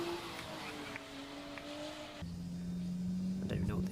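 A drift car's engine holds a steady drone in Japan, then drops pitch as it shifts and revs again, loud and close, with rushing road noise.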